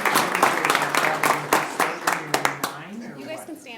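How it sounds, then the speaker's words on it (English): Applause at a county board meeting: a room of people clapping steadily in dense, overlapping claps for a few seconds, thinning out toward the end, with some voices mixed in. "Round of applause, please."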